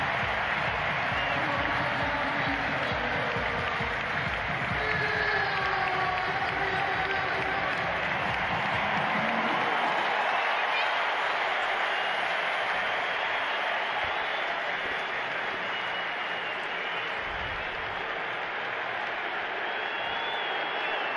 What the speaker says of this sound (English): you're going to hear that big crowd as the Phillies take the field for opening day here in 2022